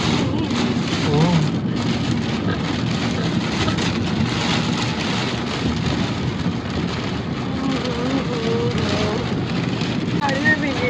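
Steady heavy rain pouring continuously, a dense hiss throughout with faint background noise and no clear voices.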